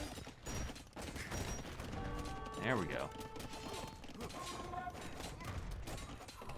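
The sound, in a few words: hand cannons firing in Age of Empires II video game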